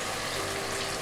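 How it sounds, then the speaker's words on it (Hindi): Water poured into chicken pulav in an electric pressure cooker makes a brief, steady, close rushing splash with no talk. "तमाम चीज़ों को अच्छी तरह से मिक्स करने के बाद हम इसमें पानी डाल देंगे"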